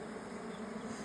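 Honey bees buzz in an opened hive as its frames are adjusted, a dense, steady drone of many insects close up with no other sounds.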